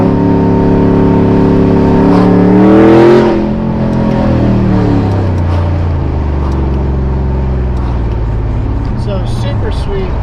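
A supercharged LT4 V8 in an OBS Chevrolet Tahoe revs up and shifts through its 10-speed gears, a loud continuous engine drone rising in pitch and dropping at the shift, heard from inside the cabin.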